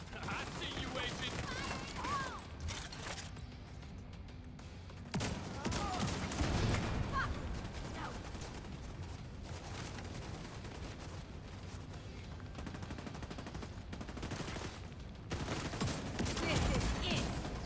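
A turret is deployed in a video game amid sustained gunfire that runs throughout at moderate volume, with sharper bursts and crashes, occasionally overlapped by game voice lines.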